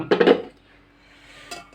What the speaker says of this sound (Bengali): এই হাঁড়িতে বসাচ্ছি